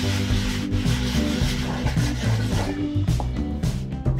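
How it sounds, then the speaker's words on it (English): Steady rubbing of sandpaper on wood, sanding a paper template off wooden gears, close and continuous, in repeated back-and-forth strokes over a low hum. "Now it's time to sand off the paper template."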